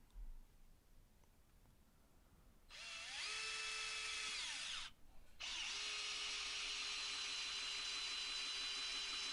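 Black+Decker BCD700S 18V cordless combi drill driving a 75mm screw into softwood: two long, close whirring runs split by a brief pause, loud and steady with no talking.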